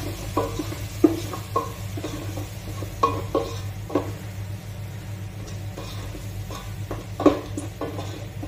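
Chili powder and garam masala roast in a pan for Goan muga gathi, stirred with a utensil that gives intermittent close scrapes and taps over a faint, soft sizzle and a constant low hum.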